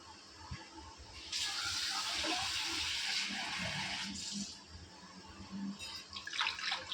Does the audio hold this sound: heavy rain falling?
no